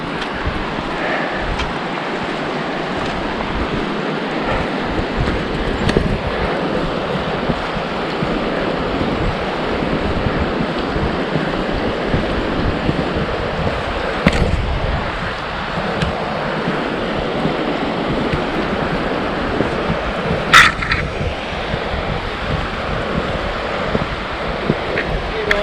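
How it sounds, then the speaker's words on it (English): River swollen with high water from opened dams, a constant broad rushing roar with gusty, wind-like texture that holds steady throughout, with faint occasional knocks and a brief voice near the end. "A lot of water in the river."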